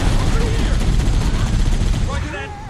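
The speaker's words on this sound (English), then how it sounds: "That turret sounds so good." Turret fire in Halo: Combat Evolved, a dense, continuous burst of rapid gunfire running loud throughout, with voices talking over it.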